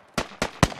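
Gunfire in a squad shooter video game: three sharp, evenly spaced shots at moderate distance, each a brief crack with a short tail.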